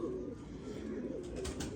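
Pigeons coo in a low, continuous murmur close by, steady throughout with no talking.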